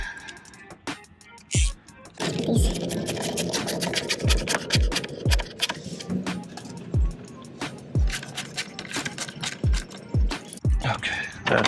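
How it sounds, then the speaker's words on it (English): Ratchet with an 8mm socket working a fastener on a Mercury Grand Marquis engine, giving a series of sharp clicking bursts at a steady rhythm close by, over a rubbing, rasping background. "Now we use our 8mm socket and ratchet"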